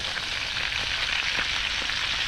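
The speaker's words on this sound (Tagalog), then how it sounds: "Prituin lang muna natin yan." Fish frying in hot oil in a pan, cooked right after a fishpond harvest: a steady, dense sizzle runs throughout at an even level, close by, with no talking.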